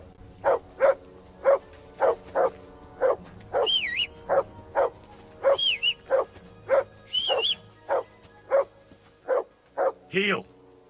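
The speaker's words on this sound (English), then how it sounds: "That barking was a pain in the" Dog barking repeatedly in the video game Kingdom Come: Deliverance II, a steady series of close, loud barks in a regular rhythm across the whole stretch, joined by a few higher yelps and whines, with no talking.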